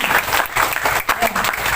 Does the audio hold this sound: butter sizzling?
no